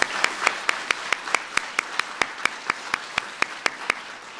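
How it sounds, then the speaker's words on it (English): An audience claps for the kids' family members at a Kids' State Dinner, a steady round of applause with distinct, evenly spaced claps standing out, moderately close. "let's give your family members a round of applause"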